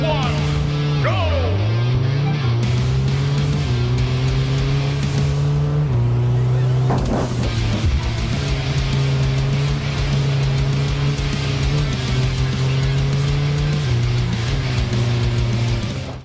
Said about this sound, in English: artificial sounding engines